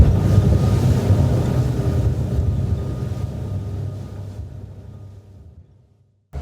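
Low steady engine drone of a Nimbus T11 motorboat hovering nearby under assisted docking, slowly fading to near silence before a brief thump at the end.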